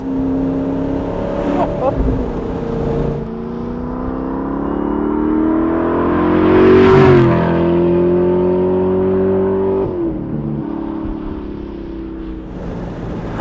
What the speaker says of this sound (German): Fährt sich total handlich, der Wagen.